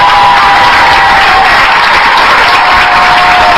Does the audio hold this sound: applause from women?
yes